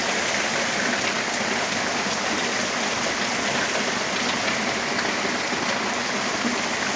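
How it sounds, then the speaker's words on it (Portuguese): Heavy rain pours down in Olinda, Brazil, in a dense, unbroken roar, loud and steady throughout with no voices. "Chuva muito forte, Olinda."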